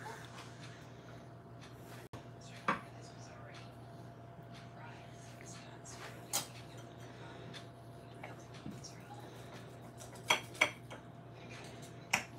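Knife and fork clinking and scraping on a plate while slicing fried eggplant rolls filled with ricotta and melted mozzarella, a few sharp taps scattered over a steady kitchen hum, with people talking nearby.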